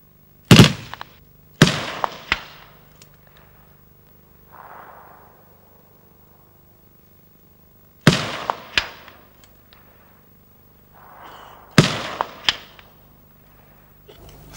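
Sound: M58 machine gun firing 7.62mm AP rounds at APC

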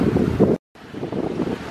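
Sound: wind on a boat sailing along the coast

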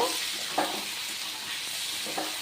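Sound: meat frying and being stirred in pan

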